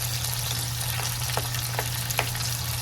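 Tomatoes are crushed and mashed in a pan while they sauté, with a steady close sizzle and a few soft, irregular pressing and scraping taps rising above the frying hiss.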